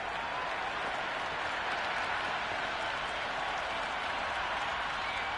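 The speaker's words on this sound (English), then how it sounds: "The crowd are really getting quite raucous." A raucous cricket crowd in a video game sends up a steady, dense wash of applause and cheering. It holds at an even level throughout, with no clear gaps.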